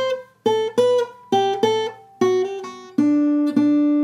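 A short melodic line of plucked electric guitar notes, each picked distinctly with some ringing sustain, playing a bright lead phrase with no voices.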